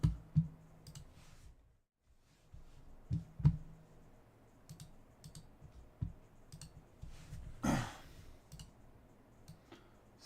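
Keys on a computer keyboard are tapped and clicked in scattered, uneven bursts, with quiet pauses between them and faint room noise underneath.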